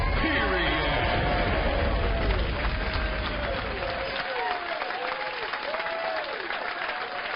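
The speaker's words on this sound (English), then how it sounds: "Yes, clap away" Studio audience applause at a late-night TV comedy show fills the whole clip with steady, dense clapping that carries on throughout, with indistinct crowd murmur and cheering mixed in.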